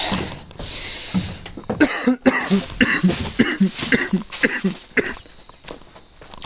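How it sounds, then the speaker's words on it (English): Several rough coughs close by, mixed with handling clatter and shuffling movement. "Pardon my coughing."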